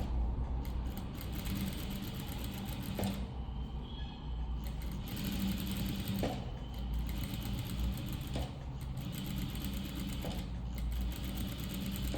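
A sewing machine stitching the side seam of a boat neck blouse runs in a continuous, steady whir, broken by a few brief pauses, close and alone.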